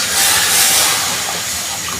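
Mutton stock poured onto hot, well-fried mutton in a pot for an Eid dish, a loud burst of sizzling hiss that swells and then settles into steady bubbling, with no speech.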